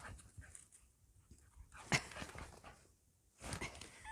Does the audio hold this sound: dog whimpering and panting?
yes